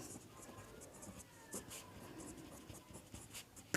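A pen scratches across paper as a Class 10 polynomial math problem is written out, the soft strokes coming in short, irregular bursts that stay faint and close throughout.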